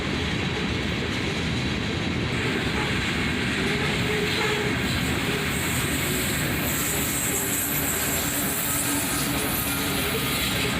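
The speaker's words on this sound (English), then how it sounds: "A CM44 AC rebuild leads this southbound ore train." A southbound ore train led by a CM44 AC rebuild locomotive rolls past. The wheels and cars give a loud, continuous rumble and clatter, close and sustained throughout.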